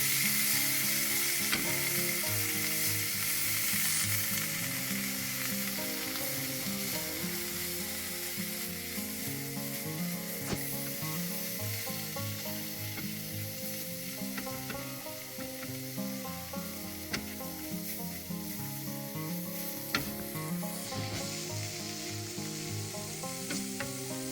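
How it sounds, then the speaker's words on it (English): Artichoke hearts and a roux mixture sizzle steadily in a hot pan as excess liquid cooks off, a continuous close frying hiss with occasional stirring scrapes. "Combine the artichokes and the roux mixture and burn off any excess liquid."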